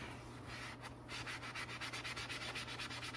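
Steady back-and-forth rubbing as grease is scrubbed off an Atari Paperboy arcade control panel overlay, a close, even, rhythmic scraping repeated several times a second over low background hum.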